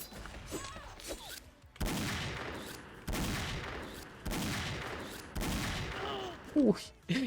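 Gunfire in the XSHOT shooting video game, heavy bursts of shots that start abruptly and hold for about a second each, repeating several times fairly quietly, with talk in the background.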